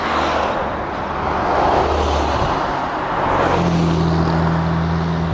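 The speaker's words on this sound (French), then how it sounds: "C'est la 911 Dakar" A Porsche 911 Dakar drives past on a road near Saint-Tropez, its engine a steady broadband rumble that swells and fades with a low drone late in the pass, mid-distance amid outdoor ambience.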